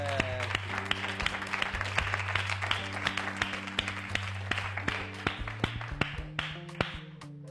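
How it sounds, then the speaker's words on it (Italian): A TV cooking-show studio audience applauds steadily with crisp, dense claps throughout, while a low musical tone and sparse sharp taps sit underneath. "Un applauso a Chiara Maci."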